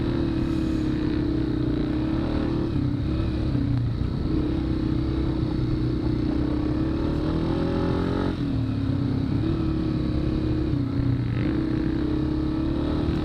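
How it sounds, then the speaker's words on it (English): A motorcycle engine drones steadily and loudly throughout during a hare scramble race, its pitch rising and falling slightly as the rider shifts and accelerates. "I could hear someone's motorcycle behind me"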